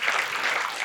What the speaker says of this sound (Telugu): గట్టిగా చప్పట్లు కొడదాం మాస్టర్స్.